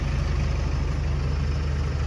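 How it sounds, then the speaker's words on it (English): Loud bus engine on a street in the old town of Rauma, Finland, a steady low rumble and idle throb filling the whole short stretch with no talking. "The bus was a bit loud."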